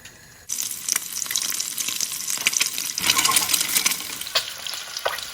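Halved boiled eggs sizzle and crackle steadily in a hot pan, a loud continuous frying hiss with occasional pops and stirring.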